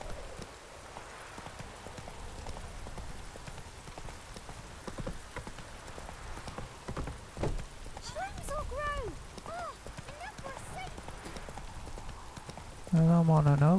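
Horse hooves clip-clop steadily in The Witcher 3 game while the rider calls out and talks, with brief whinny-like tones near the end under game ambience.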